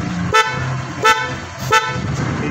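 Motorcycle big horn fitted with a Thai domino switch, sounded in three short loud honks spaced about two-thirds of a second apart over a low background hum.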